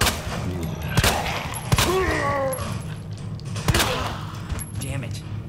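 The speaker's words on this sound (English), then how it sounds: "Time to shoot on his head many freaking times." Gunfire in Resident Evil 2 Remake aimed at Mr X's head: several sharp, widely spaced shots cracking over a busy game soundscape, with a voice heard around them.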